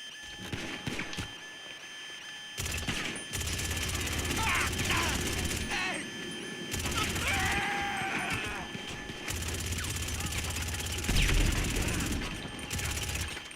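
Machine gun fire emptying a magazine in GTA 5 Online, sustained rattling bursts broken by short pauses, with someone talking over parts of it.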